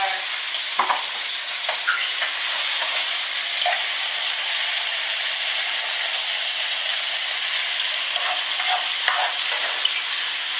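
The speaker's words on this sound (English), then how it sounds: "we're going to fry this one off first by itself" Ingredients for fettuccine fry in a pan with a loud, constant hissing sizzle and a few faint clicks and scrapes of stirring, no voices.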